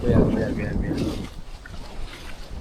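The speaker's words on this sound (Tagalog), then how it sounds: "Kaso nga lang medyo mahangin ngayon." Gusty wind on the Camotes Islands coast rumbles and buffets the microphone, loud at first then easing, with a voice speaking briefly over it early on.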